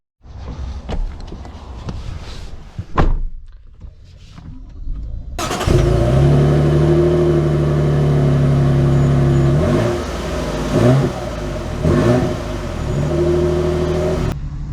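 A lifted 2024 Toyota Tundra pickup starts with a few door and cabin clunks, then its engine fires up and runs loudly with rising revs and several accelerating surges, heard close and without talk.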